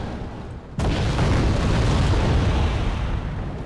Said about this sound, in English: Looks like enemy ATGMs might be firing at us from the building.